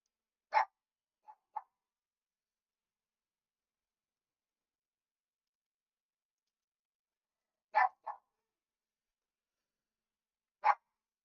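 A single dog barks in short, separate bursts: a sharp bark followed by two softer ones, a long silence, then two more barks and one final bark, fairly close in an otherwise quiet room.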